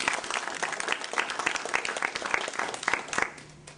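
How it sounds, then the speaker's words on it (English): An audience at a League of Women Voters school board candidate forum gives steady, dense applause for the candidates. It runs for about three seconds, then quickly thins out and fades. "Please give them a round of applause."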